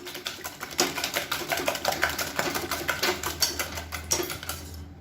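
Eggs with salt and turmeric are beaten for an omelette, making a close, rapid, rhythmic clatter of a utensil against a bowl that continues steadily with no talking.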